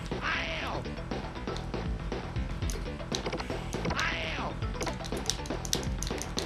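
A bird attacking in the video game Earthworm Jim, with repeated squawking, quacking cries and thwacks over busy game music and effects, loud and close.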